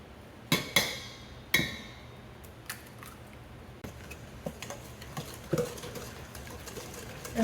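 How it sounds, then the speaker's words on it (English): Shortbread cookie dough being mixed by hand with a whisk and spatula in a bowl, a few sharp clinks of utensil on bowl early on, then soft scraping and light taps, close and without talk. "I'm going to be using my whisk and my spatula to"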